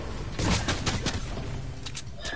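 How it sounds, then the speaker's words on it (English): SMG gunfire in a video game, a scattered series of rapid shots at mid distance, fairly loud and slightly muffled, with no voice talking over it. "Some SMG thingy-majiggy"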